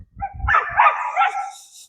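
Jack, a Pudel Pointer fresh out of the kennel, gives a single close bark that trails into a whiny yelp, alone with no talk over it.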